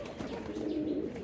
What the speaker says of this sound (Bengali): এটা দেখেন হেভি ডাক দিচ্ছে আমাদের বোম্বাই নটটা